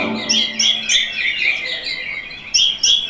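Small birds chirp and tweet loudly and close by in bright repeated bursts with short pauses between calls, and no voices are heard.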